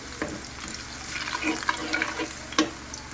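A snack fries in oil while being stirred in batches. Soft, steady sizzling carries through the whole stretch, broken by a few brief scraping and clinking stirs, with no voices.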